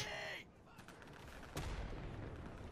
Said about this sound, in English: I'm also taking a lot more fire than usual